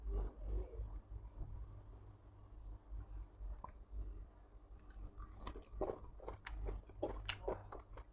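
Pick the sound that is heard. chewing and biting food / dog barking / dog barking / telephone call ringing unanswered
chewing and biting food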